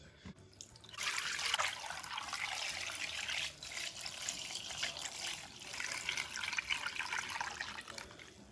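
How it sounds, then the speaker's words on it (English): Apple cider pours through a mesh strainer into a bowl in a steady, soft splashing stream, trickling continuously with a few brief dips, close by and without voices. "Gently, we're going to pour it into our mess strainer and bowl."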